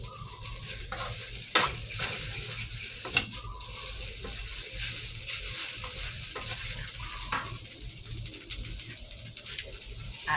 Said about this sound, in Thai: เป็นสปาเกตตี้ผัดจ้า